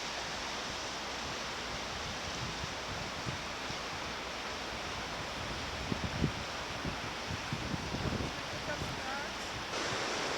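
Steady broadband rush of flowing river water in Alaska, a constant roar with no pauses, like whitewater running nearby.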